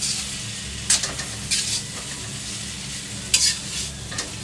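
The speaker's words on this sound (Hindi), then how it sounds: "अब डालते हैं चौमीन इस तरह से, अब इसको अच्छी तरह से मिला लेते हैं" Chowmein noodles stirred and mixed in an iron kadhai, a low steady sizzle broken by a few sharp scraping clinks of the spatula against the metal, close by, no voices.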